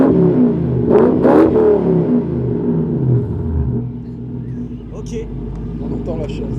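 A Lexus LS400 V8 revs loudly in a couple of sharp bursts, then settles into a lower rumbling idle, with a voice speaking over it.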